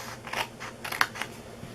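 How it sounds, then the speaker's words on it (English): Scissors cut cardstock for a mini cupcake box, making a few quick close snips and crisp paper rustles over under two seconds. "we are going to cut this little square out here"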